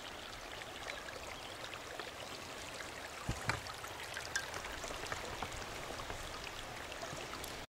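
A small stream flowing in rough country near the Torrens River, a soft continuous trickle and babble of water with scattered splashy drips, quiet and close, with no voices.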